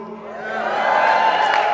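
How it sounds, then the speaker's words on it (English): An audience at a real estate event breaks into loud cheering and whooping over clapping, with the crowd noise swelling and then holding at full volume. "You know why you guys are clapping?"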